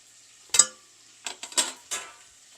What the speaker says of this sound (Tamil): இப்போ இதில் நான் ரைஸை சேர்க்க போகிறோம்.